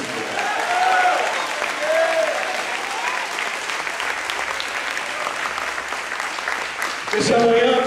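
A church congregation applauds during a Portuguese-language sermon: loud, sustained clapping fills the whole stretch, with scattered voices rising through it and a brief swell near the end.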